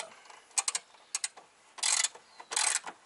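A ratchet works on a motor mount bolt of a MK4 VW Golf/Jetta GTI, with short bursts of clicking separated by pauses, close and fairly loud in a quiet garage.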